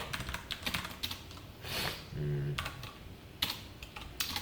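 Quiet clicking of a computer keyboard as code is typed, an irregular run of light keystrokes nearby with a brief hum in the middle.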